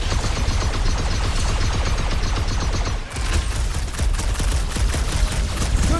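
Sustained rapid gunfire in Guardians of the Galaxy as clamps are shot, loud and continuous bursts with a short pause at the midpoint before the firing resumes.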